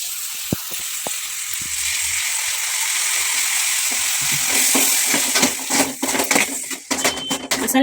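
Ground masala paste hits a hot pan for a vegetable saagu curry and sizzles steadily. Scraping and stirring clatter joins in and grows busier toward the end. The sound is close up, with no talking.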